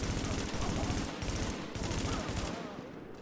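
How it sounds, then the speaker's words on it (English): A gun fires in the video game The Division: a rapid, steady stream of close shots, evenly spaced and loud, with a short break and a brief lull near the end. "I've just put like 6 bullets in this guy, and he's still trucking on"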